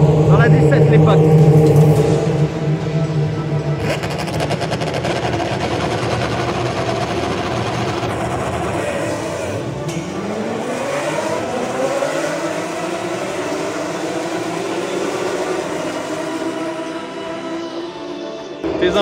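Race cars at the 2021 French Grand Prix, a loud roar near at first, then cars passing with rising and falling engine pitch under a crowd murmur and occasional voices.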